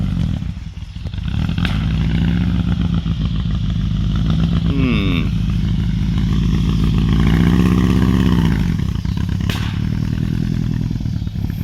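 A 1969 Baja Bug hot rod engine, restarted after stalling on dirt, runs loud and close with a rough, clattering idle, a quick rev partway through and sustained revving later, under no talk.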